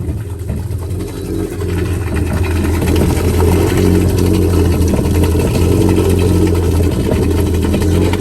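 A saltwater boat engine idles steadily while warming up, a loud, constant low rumble that thickens slightly after the first couple of seconds.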